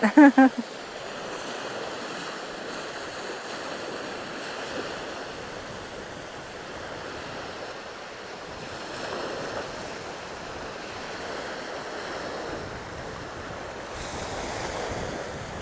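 Sea waves wash steadily along the Danish coast, a continuous broadband surf roar with wind noise buffeting the microphone, starting after a brief loud burst and carrying on evenly without speech.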